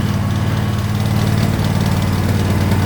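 A Husqvarna TS242 ride-on lawn mower's engine runs steadily and loud at close range, a continuous low throbbing hum with no talk over it.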